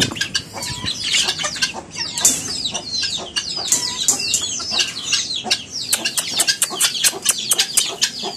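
Chickens cluck and chatter busily around someone scattering grain feed for chicks, a dense run of close, overlapping clucks and short calls lasting throughout.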